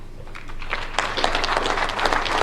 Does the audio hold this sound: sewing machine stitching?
no